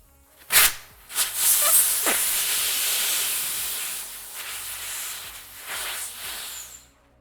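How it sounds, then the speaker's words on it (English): Pressure hissing steadily out of the pulled valve stem on the expansion pipe of a 1993 Honda CR250 two-stroke, a sharp close release that fades over several seconds with faint sputters. "we're gonna pull out the valve stem just like we would on a tire and release the pressure"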